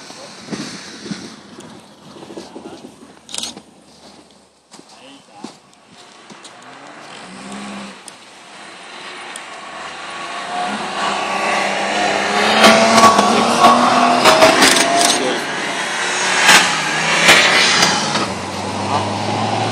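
A car drives on a snowy winter track in Stanzach near Reutte, Tyrol, at an Audi 80 club meet, its engine roar rising from distant to loud and close, mixed with wind buffeting the microphone and scattered voices.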